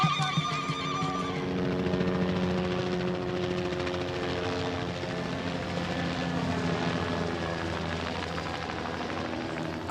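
A helicopter in Namibia drones steadily throughout, its rotor and engine forming a dense, continuous roar that holds at a constant loudness.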